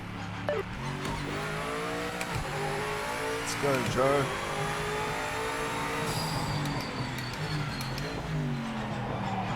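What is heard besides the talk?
BMW M8 GTE race car driving, Project Motor Racing video game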